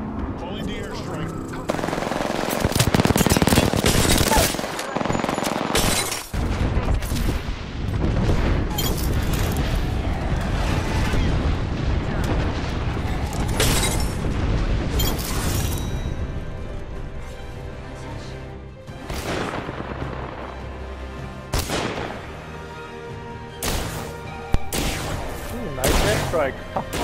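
An airstrike in the Apex Legends video game brings rumbling explosions mixed with dense machine-gun bursts and gunfire, loud and sustained with sharp cracks throughout, with players talking over the battle.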